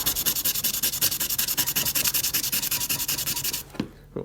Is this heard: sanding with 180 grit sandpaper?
yes